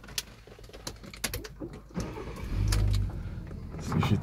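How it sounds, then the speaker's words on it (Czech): A VW T5 van with a 3.2 petrol engine cranks and catches after a series of clicks and cabin clatter, settling into a low rumble with a short surge near the end. "No a teďka mě dovolte tady zkusit nastartovat."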